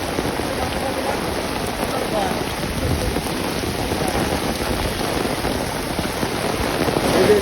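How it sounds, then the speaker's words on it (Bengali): Heavy rain drums steadily on surfaces in Gazipur during a morning downpour, a dense, loud, continuous hiss that builds slightly toward the end, with no voices. "সকালে এমন ধরে বৃষ্টি হচ্ছে"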